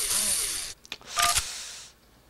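Cell phone dialing tones in a video game, a few short beeps standing out between bursts of broadband noise and clatter, brief and moderately loud.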